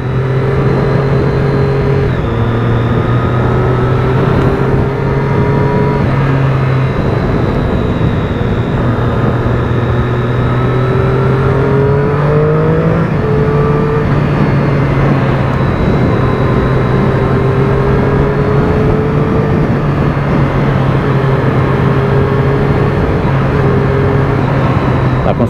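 A Triumph Daytona 675R sport motorcycle with a quick shifter being ridden in traffic, its engine droning steadily and loudly close by, the pitch stepping up and down through gear changes and throttle shifts.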